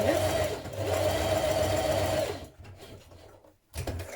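A sewing machine runs a straight stitch around a curve while sewing a dress, whirring steadily and loudly for about two seconds before stopping, followed by a short final burst of stitching.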